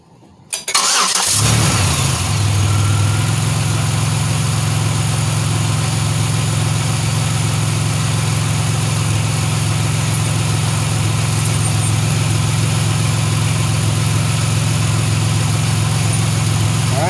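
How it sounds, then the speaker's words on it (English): A 3.8L 3800 V6 in a Pontiac Grand Prix cranks briefly, catches and settles into a steady, even idle that runs loud and close for the rest of the clip, with no talking. "make sure she fires up and runs before I put the wheel back on"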